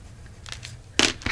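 Paper for a pocket file folder journal cover being cut, with a couple of short, crisp rasping bursts close by near the end after a quiet start.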